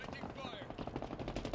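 Rapid automatic gunfire in Halo Infinite Team Slayer multiplayer on Xbox Series X rattles on continuously, dense and loud, with a game voice faintly mixed into the bursts.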